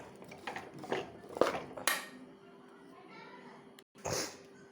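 Tender mango pickle with asafoetida being stirred in a pot, giving a few soft scraping and clinking strokes of a spoon against the pot at close range, with a brief louder clatter near the end.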